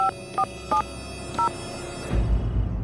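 Telephone keypad dialing in a Hindi TV drama scene: four short paired tones beep in an uneven rhythm, clear and close, followed by a low rumbling background hum with no voices.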